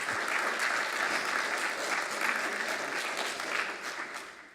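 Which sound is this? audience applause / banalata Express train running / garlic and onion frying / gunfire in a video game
audience applause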